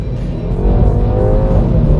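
A Mini JCW hot hatch blares a loud, gruff exhaust note as it revs and pulls, a close, throaty roar that climbs steadily with no talking.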